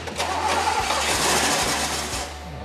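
A freshly built big block engine on break-in oil cranks and fires up for the first time, catching into a loud, rough, steady idle with uneven pulses, close by and alone.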